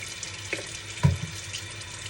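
Tap water runs into a kitchen sink while a clean surface is washed, giving a soft, steady trickle with a few light splashes and knocks close by.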